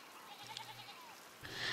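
Sheep bleat faintly at a monastery in the video game Pentiment, where a few flock animals have escaped through a broken wall, giving short wavering cries over a low hum, with a brighter rustle at the end.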